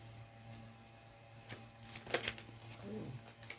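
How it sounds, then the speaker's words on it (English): Tarot cards being flipped and shuffled during a reading, soft papery riffles and slaps close by over a low steady hum, with a brief murmur of talk near the end. "Flip my cards."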